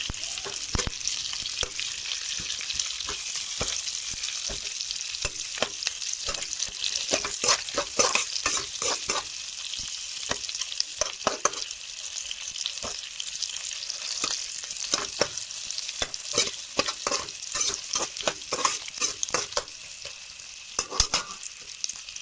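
A spatula scrapes and clatters steadily against a pan over a constant frying sizzle as boiled potatoes are stirred and mashed, with no voices.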